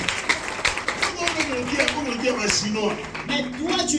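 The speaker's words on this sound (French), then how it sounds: "les acclamations pour Jésus-Christ." A church congregation claps for Jesus in a rhythmic run of handclaps, heard under loud voices that call out and talk over the clapping.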